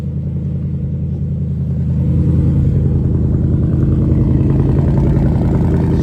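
A 2024 Ford Mustang engine idles after the key is turned, a steady low rumble that grows slightly louder after a couple of seconds and then holds even, close by with no talking.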